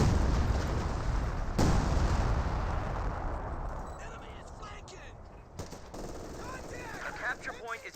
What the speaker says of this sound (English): We got some artillery raining on in,